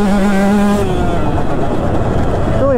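A KTM 150 two-stroke motocross bike engine is held at half throttle, a loud, close, smooth steady buzzing drone with a slight pitch dip early and a rise near the end.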